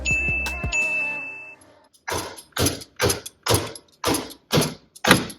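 A garbage disposal unit is twisted loose from its sink mount: a ringing metallic clank first, then a series of about six rhythmic scraping, ratcheting turns, close and fairly loud, with no talking.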